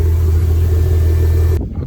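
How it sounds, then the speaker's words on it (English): A Porsche Boxster engine idles after start-up with a strong, steady low rumble and faint higher whine, loud and close, then cuts off abruptly near the end, leaving a fading rumble. "we started it up, it's running"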